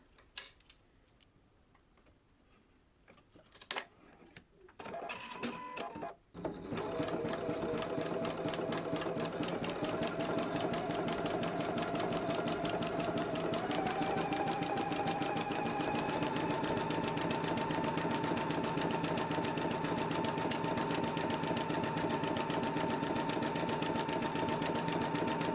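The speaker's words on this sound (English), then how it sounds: "I'm gonna go ahead and stitch this together at a 1/4 inch seam allowance" A sewing machine fitted with a jersey needle stitches a quarter-inch seam in knit fabric for a dress, running as a steady, fast mechanical whir with rapid ticking after a few quiet handling sounds at the start.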